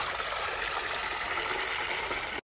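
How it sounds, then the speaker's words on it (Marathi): Running water poured or flowing for washing fenugreek leaves in a home kitchen, a steady, close hiss-like stream lasting throughout, then stopping abruptly at the end. "आपण आता भाजी धुण्यासाठी पाणी घेऊ।"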